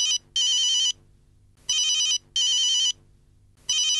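Telephone ringing in repeated electronic bursts, four rings with short gaps, loud and clear with no talk over it.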